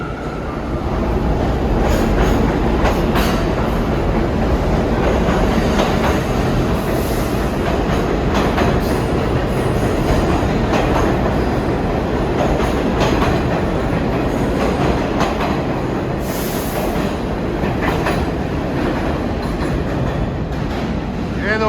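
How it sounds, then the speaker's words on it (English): A G subway train pulls out of a station toward Court Square in Queens, a steady loud rumble of wheels on rails with clickety-clack and occasional squeals throughout. "There's the G train headed off to Court Square in Queens."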